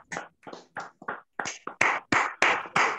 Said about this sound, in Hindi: सबसे पहले चाहता हूँ कि अंकुर जी और नंदा प्रजापति जी के तालियां बजाएं